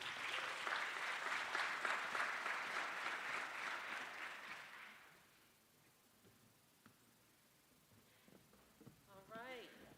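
Audience applause at a statewide diversion, reentry and justice-involved conference in Maryland, a dense, loud, sustained round of clapping for about five seconds that then drops away to quiet room tone with a few faint sounds.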